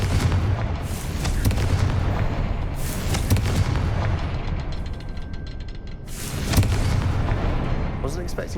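The Confringo fire spell explodes in the game Hogwarts Legacy, giving loud, booming blasts that repeat several times over a steady rumbling backdrop, with a player voice in between.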